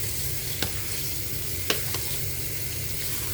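Water boils in a pot for sweet potato leaves, giving a steady, dense bubbling roar with a couple of brief knocks against the pot; no one talks.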